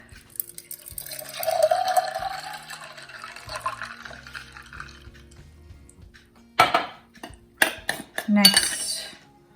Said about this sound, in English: In goes the ice. In goes the milk.